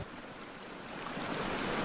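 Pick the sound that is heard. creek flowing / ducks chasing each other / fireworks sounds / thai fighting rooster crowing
creek flowing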